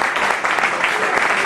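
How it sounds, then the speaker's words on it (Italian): Applause breaks out at an Italian political gathering, a burst of dense clapping from the audience that fills the whole moment, loud and close, with a voice faintly mixed in. "un applauso ci vuole"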